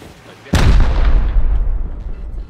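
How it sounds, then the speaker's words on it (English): A loud explosion from a wall being blown during a raid in the online survival game Rust bursts in sharply, then rumbles and decays with a long low boom, with a quieter background before it. "They're blowing walls around."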